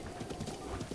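Horse hooves clip-clop in Breath of the Wild, a faint, quick run of soft hoof beats over a dense background of game sound.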